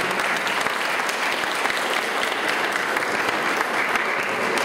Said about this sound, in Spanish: el maestro Arturo Gómez Martínez, a quien yo les pido un fuerte aplauso